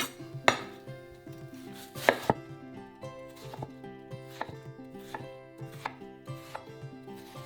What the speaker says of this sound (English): I'm just going to cut these into cubes